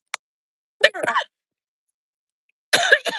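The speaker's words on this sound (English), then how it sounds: "if I chew gum, I can avoid the coughing attacks" A sharp catch of breath, then two short bursts of close, raspy coughing separated by a silent pause.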